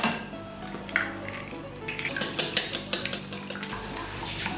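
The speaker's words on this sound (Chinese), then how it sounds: "把鸡蛋打散" Eggs whisked in a bowl for egg tart custard, giving a run of quick, close clinks and scrapes of utensil against the bowl, steady and rhythmic, with no voices.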